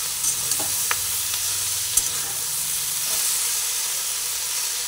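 Capsicum and eggplant fry in a pan with turmeric, giving a steady sizzling hiss with a few light stirring clicks and scrapes and no talk over it.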